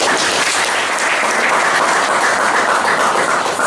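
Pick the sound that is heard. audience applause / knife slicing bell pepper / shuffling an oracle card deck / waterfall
audience applause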